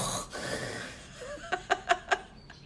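A voice mimics a cat's snoring with a wheezy breath followed by four quick, rhythmic snorting puffs.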